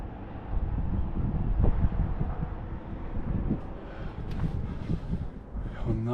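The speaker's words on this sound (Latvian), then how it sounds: "Un arī vējš." Gusty wind buffets the microphone atop a castle tower in Czechia in low, rumbling waves that rise and fall for several seconds.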